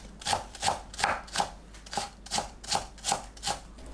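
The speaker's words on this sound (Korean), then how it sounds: "파를 썰어주세요." A knife slices green onion on a cutting board in a regular rhythm of about nine crisp, close chops over four seconds, each a short thud with a bright edge and no talking.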